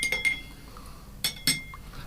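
Absinthe spoon clinking against a glass while stirring, a few bright metallic taps spaced out over a quiet background, near and moderately loud.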